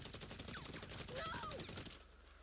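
Rapid gunfire in Grand Theft Auto V: a dense, fast rattle of shots runs for about two seconds, then cuts to quiet, with a faint vocal groan mixed in.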